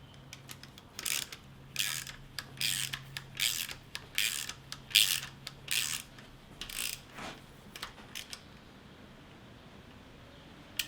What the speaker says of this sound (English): the ring spanner, just centralize that over the retainer, tighten it down, and it will compress the spring